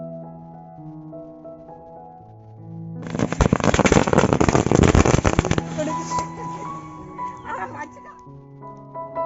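A string of Diwali firecrackers goes off at a home celebration as a rapid, dense crackle of sharp bangs lasting about three seconds, surrounded by loud music and voices.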